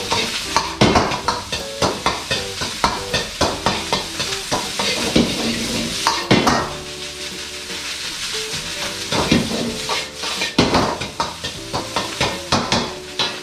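Rice stir-fried in a hot pan, likely with soba, crackles in a loud, close sizzle. A spatula scrapes repeatedly in quick strokes, with a brief quieter lull midway before the stirring picks up again.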